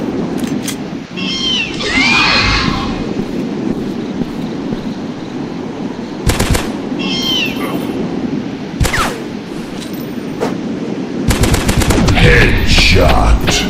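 Gunfire from the dinosaur-hunting video game Dinosaurs Hunter, sharp shots and short bursts rising at about 6, 9 and 11–13 seconds over a steady ambient game bed, with quieter creature calls in between.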